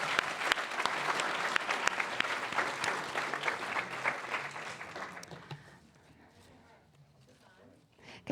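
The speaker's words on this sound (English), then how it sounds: "please give the candidates a round of applause for making it through this round" Audience applause after candidates finish a competition round, loud and dense for about five seconds, then thinning to scattered claps and faint room noise.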